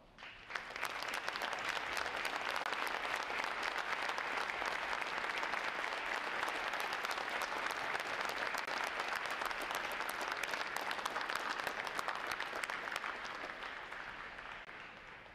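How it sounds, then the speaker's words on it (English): A large audience at a Navy Recruit Training Command graduation applauds its veterans with dense, steady clapping that fills the hall for about fifteen seconds before tapering slightly at the end. "Would all our veterans please stand and let's give them a round of applause"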